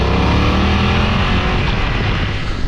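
A BMW F900 motorcycle's 900cc parallel-twin engine runs loud and close in a continuous droning growl, steady throughout with a slight dip near the end and no voices.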